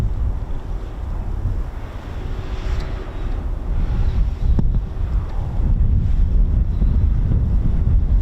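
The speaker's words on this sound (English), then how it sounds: "A bit windy, Ted, isn't it, mate?" Strong wind buffeting the microphone at an RAF Coningsby airfield, a loud continuous low rumble with gusts rising and easing and no talking.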